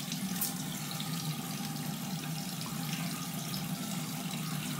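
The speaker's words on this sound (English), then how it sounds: "I'm gonna rinse my face off just a little bit." Water runs steadily from a sink tap while a face is rinsed after shaving, a constant close splashing wash with no talk.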